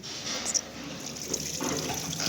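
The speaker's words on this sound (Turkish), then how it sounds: "şimdi suyu açalım" Water runs from a hose while a central-heating radiator is flushed, giving a short, steady gushing rush at close range with no voices.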